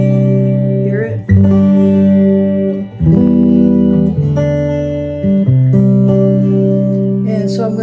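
Acoustic guitar is strummed and picked through the spring reverb mode of an Electro-Harmonix Oceans 12 pedal, loud and up close, with sustained chords blooming into a splashy, lingering tail.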